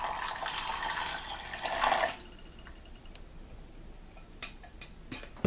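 Water poured into a teriyaki sauce mixture of soy sauce and cornstarch in a home kitchen, a short close splashing pour of about two seconds followed by a few faint drips and clinks.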